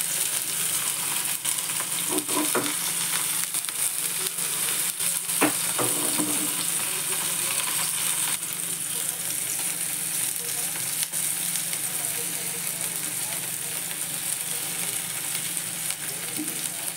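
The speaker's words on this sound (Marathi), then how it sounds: "हे हलक्या हाताने परतून घ्यायचं, नाही तर मग पनीरचे तुकडे होतात." Paneer cubes fry in a pan with a constant, even sizzle, stirred gently with a few soft scrapes early on, close and unbroken, with no voices, for hotel-style paneer chilli.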